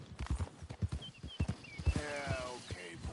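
Horse hooves clip-clopping in Red Dead Redemption 2, a steady walking rhythm close by, with a brief whinny and people talking over it.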